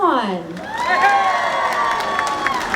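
An audience at a live celebrity event in Vaughan, Ontario claps and cheers, with loud whoops and shrieks rising and falling in pitch over steady applause and crowd noise.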